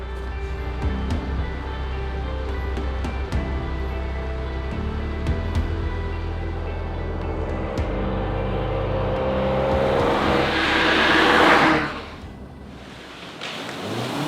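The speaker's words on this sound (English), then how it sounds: "we're driving behind all these Porsches, and it's so much fun to get very, very fast behind them" A Volkswagen Beetle rally car on the RAC Rally of the Tests 2023, engine droning loudly and steadily at speed, then a rising rush of gravel and wind noise that swells and cuts off near the end.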